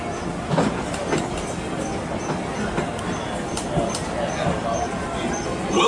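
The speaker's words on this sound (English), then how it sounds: "Welcome aboard the Disneyland Railroad." The Disneyland Railroad train rolls along with a steady rumble and faint rhythmic wheel clatter on the track, a continuous moderately loud ride with some background noise and voices.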